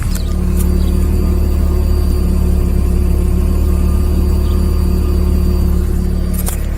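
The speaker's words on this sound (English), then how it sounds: "my fuel pump is making a noise" Steady mechanical hum from the fuel pump of a 2001 Ford Taurus with a 3.0 engine, continuous and fairly loud with the engine running, and no voices.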